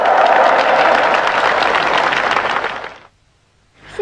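Applause from a studio audience on a Vietnamese family TV show roars loudly and steadily for about three seconds, then cuts to silence before a brief swell of clapping returns.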